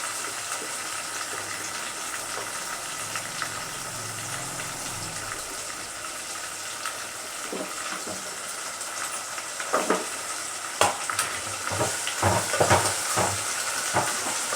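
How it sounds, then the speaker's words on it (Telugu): Chopped tomatoes sizzle and fry with ginger garlic paste and curry leaves for a chicken curry, a steady close hiss with a few sharper stirring scrapes near the end; no talking. "ఆ తరిగి పెట్టిన టమాటాలు దాంట్లో వేసుకున్నాం"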